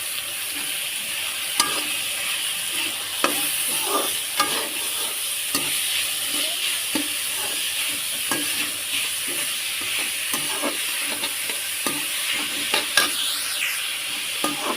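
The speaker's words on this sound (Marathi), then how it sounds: "शिमला मिरची आणि मस्त टाकून घेतले" Chopped capsicum and carrot fry in a pan for Maggi pasta, a steady loud sizzle with regular scraping and clinking as a spoon stirs throughout, no talking.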